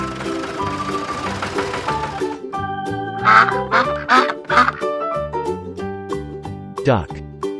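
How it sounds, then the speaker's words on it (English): Several short duck quacks, bright and clipped, in a children's farm-animal nursery song, popping out in a quick series over the continuous cheerful music. "Duck."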